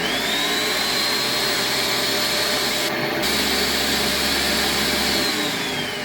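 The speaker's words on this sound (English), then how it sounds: "I add a couple of tablespoons and then puree it." Blender motor running steadily, pureeing chickpeas into a hummus sauce, a loud continuous whir that holds for the whole stretch with a brief dip partway through.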